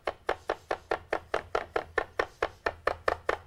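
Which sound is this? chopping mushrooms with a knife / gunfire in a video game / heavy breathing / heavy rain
chopping mushrooms with a knife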